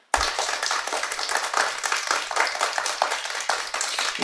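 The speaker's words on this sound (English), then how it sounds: "Clap it up." Steady clapping from a small group, brisk and continuous, fairly close, with no voices.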